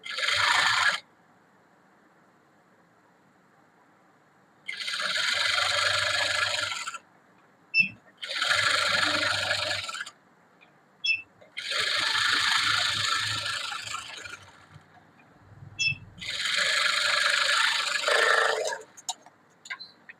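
A sewing machine stitches a normal blouse in four or five whirring runs of about two seconds each, separated by short pauses, close and steady with a low motor drone beneath the needle's rapid chatter.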